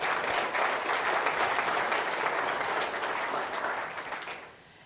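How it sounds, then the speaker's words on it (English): A room full of delegates at a facility management association meeting applauds steadily for several seconds before the clapping fades out at the end. "We can give ourselves a round of applause for that"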